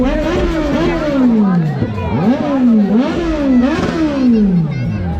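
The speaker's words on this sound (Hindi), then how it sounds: "सुपर बाइक जैसे कि स्टार्ट हो चुका है, तो उसका आवाज़ सुन सकते हैं।" A superbike's exhaust revs repeatedly at a biker meetup, each rising and falling pitch sweep close and loud over steady crowd hubbub and other engines in the background.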